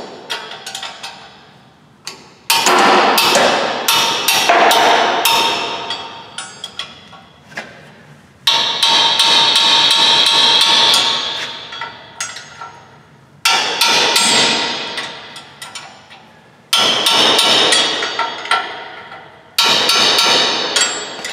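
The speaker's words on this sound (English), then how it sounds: "Snug things up using my combination wrench and a sledgehammer." A sledgehammer strikes a combination wrench to snug up a Toyota Tacoma wheel bearing nut: bursts of sharp metallic blows in rapid runs, separated by brief pauses, loud and close.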